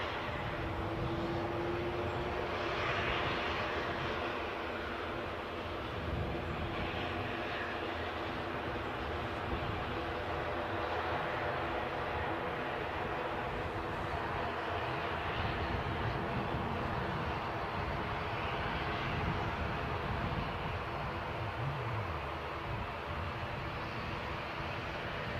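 A jet airliner roars steadily at Newcastle airport during plane spotting, a continuous broad engine rumble heard from some distance for the whole stretch, with no talk over it.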